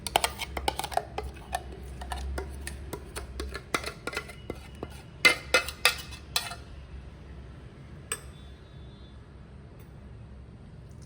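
Tomato chutney for bhajiya, optionally with garlic, scraped from a pan into a bowl: scattered spoon scrapes and clinks against metal and ceramic, a busy clattering stretch that thins out, then a last faint tap and quiet.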